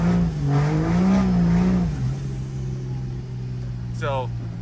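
A truck, either a tow truck or street truck build, pulls a roll-on in second gear on a wet road in the rain. Its engine drone climbs, then holds a steady close rumble over broadband road and rain hiss.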